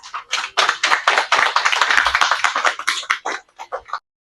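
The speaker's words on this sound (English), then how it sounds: "I believe is worthy of applause." Audience applause at a healthcare event in a Caribbean town, with a steady burst of many hands clapping for about four seconds before it thins out into a few scattered claps.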